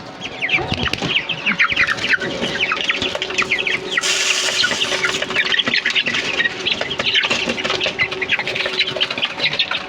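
Chickens squawk and cluck continuously and close by as they are fed rice, a busy overlapping flock chorus with a brief harsh burst partway through.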